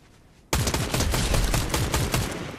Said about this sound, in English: they're shooting at us, sniping